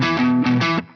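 Heavily distorted electric guitar riff with ghost notes, a short, loud and gritty burst of sustained chugging notes ending abruptly.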